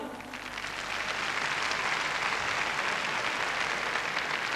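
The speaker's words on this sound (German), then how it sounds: "Ich glaube, Sie hätten Svetlana Boginskaja auch noch einmal mit einem herzlichen Applaus, bitte." Sustained audience applause for gymnast Svetlana Boginskaja at the 1992 DTB Cup floor exercise, a dense steady wash of clapping from a large arena crowd, fairly distant and even throughout.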